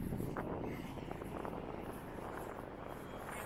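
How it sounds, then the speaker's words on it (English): Wind buffets the microphone outdoors on a sunny, windy day in Blackpool, producing a continuous low rumble and muffled gusting that stays fairly steady throughout without speech. "I haven't done too much talking because of the wind"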